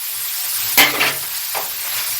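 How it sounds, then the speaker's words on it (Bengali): Radish pieces fry in a pan with a continuous close hiss of oil, broken by two or three quick stirring scrapes. "মূলোটা কিন্তু আমার লালচে লালচে একটু একটু ভাজা ভাজা হয়ে গেছে"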